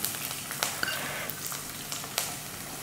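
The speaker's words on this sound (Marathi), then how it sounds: "आणि ह्याला मंद गॅसवरच आता परतून घ्यायचंय" Coarsely chopped garlic sizzles gently in a pan over a low flame, a soft steady fry peppered with small crackles and pops, heard up close and alone.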